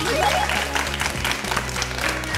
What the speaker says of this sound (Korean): 박수 쳐야죠.